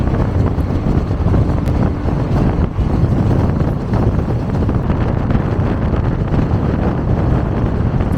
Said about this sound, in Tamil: அதுதாங்க வெஸ்ட் கோஸ்ட் எக்ஸ்பிரஸ்